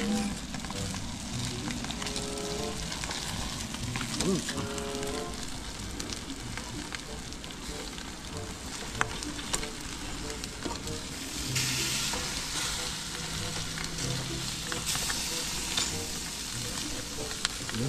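Food sizzles and fries over an open fire outdoors, a continuous crackling hiss with occasional stirring and pops, steady and close for the whole stretch.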